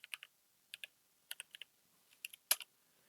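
A sudo apt upgrade command typed on a computer keyboard, with crisp, close key clicks in short quick bursts separated by brief pauses, ending on a sharper final keystroke, with no talking.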